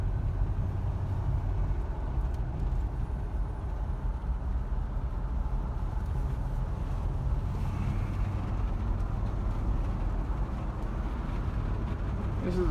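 Steady engine drone and road rumble inside a 1977 Ford LTD on a ride along, holding an even level throughout with a faint voice underneath.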